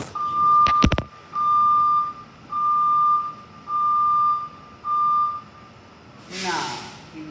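School bus in Santa Maria reversing, its backup alarm giving five evenly spaced steady beeps, preceded by a couple of sharp knocks and ending with a short hiss of air brakes.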